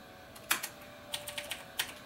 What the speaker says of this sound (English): we hit enter on the keyboard